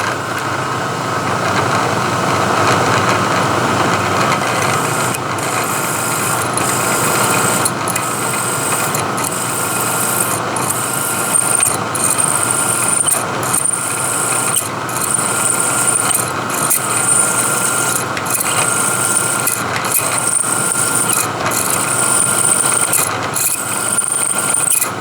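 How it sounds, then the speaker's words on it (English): A drill bores holes through a stack of eleven block pieces clamped in a vise, giving a steady, loud mechanical whir with regularly spaced high-pitched squeals as each pass cuts. "let's go ahead and drill a hole through these"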